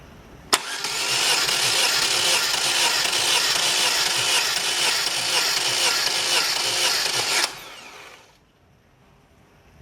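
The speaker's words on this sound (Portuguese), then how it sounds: "eu posso abrir e dar partida apenas no motor de arranque" A Chevrolet Agile 1.4 engine cranked on its starter motor alone, a steady loud mechanical whirring with rapid rhythmic pulses lasting about seven seconds before stopping abruptly.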